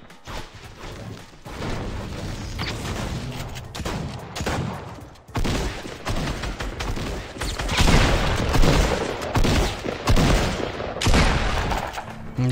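Burst rifle fire in Fortnite Battle Royale, repeated rapid volleys of gunshots with booming impacts, loud and dense across the whole stretch, with little talk.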